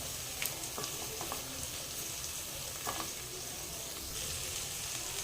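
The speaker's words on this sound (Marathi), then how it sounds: "आता भाज्या छान परतून घेऊया आपण" Mixed vegetables sautéing in hot oil in a home kitchen, giving a steady, moderately loud sizzle and crackle with occasional soft stirring clicks, no voices.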